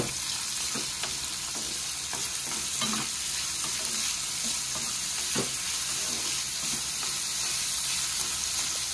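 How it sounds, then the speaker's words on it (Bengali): Finely chopped onion frying with potato in a pan for chana masala, a constant close sizzle broken by occasional scraping stirs and soft knocks. "এবার পেঁয়াজটাকে আলুর সাথে ভালো করে ভেজে নেব।"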